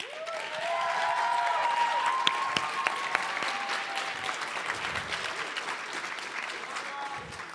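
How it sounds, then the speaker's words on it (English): Audience applause for Lincoln Park High School students, a dense sustained round of clapping from a crowd in a hall that swells early and tapers slightly, with faint voices mixed in. "let's give Lincoln Park a big round of applause."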